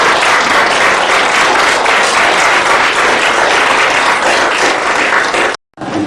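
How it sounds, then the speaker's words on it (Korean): A church congregation claps in encouragement at a book-launch thanksgiving service, loud, dense and sustained applause that fills the room, then cuts off sharply near the end and returns briefly. "우리 한번 격려의 박수 한번 하겠습니다"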